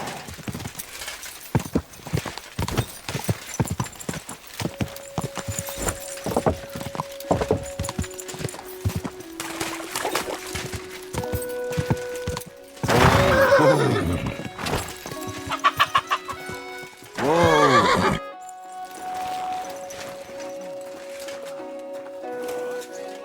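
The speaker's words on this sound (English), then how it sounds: "That's a nice horse." A horse in Kingdom Come Deliverance 2: hooves clip-clop in rhythmic strides, then a loud neigh, with hens clucking nearby and a voice speaking at times.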